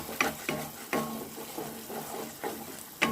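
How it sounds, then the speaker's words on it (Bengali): A spice paste of turmeric, Kashmiri chilli powder and salt is sautéed and stirred in a pan, with soft sizzling under a series of repeated scraping strokes from the spoon, each stroke a short bright burst. "এবার এটাকে মশলাটাকে একটু কষিয়ে নেব।"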